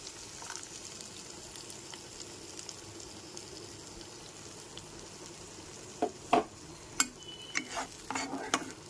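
Cashew and milk paste cooks in a pan with fried spices for a paneer dish, giving a quiet, low simmering sizzle, then a few sharp scraping and clattering stirring knocks near the end.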